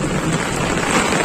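Steady rain pours down outdoors, a dense, loud hiss of drops striking surfaces with a low rumbling undertone, continuous and close throughout the short stretch.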